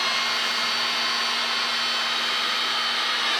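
A heat gun blows a steady, even hiss of hot air as Raychem heat-shrink tubing is shrunk onto wiring up under the dash of a Ford F100 race truck, with a faint constant hum underneath and no talking.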